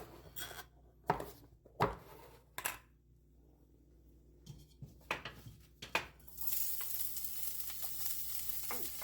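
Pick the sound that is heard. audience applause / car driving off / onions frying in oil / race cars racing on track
onions frying in oil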